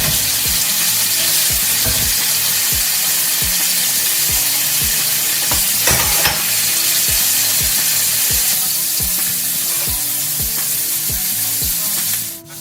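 Pork cheeks sizzling loudly in a hot pan, a dense, constant frying hiss with regular rhythmic clattering as the pieces are turned over, a sharp clank near the end.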